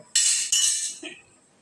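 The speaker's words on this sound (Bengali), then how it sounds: "এরপরে আমি ঢাকনা দিয়ে ঢেকে দিব" A metal lid is set onto a pot of khichuri with two quick, bright clinks close by, the metallic ring fading over about a second.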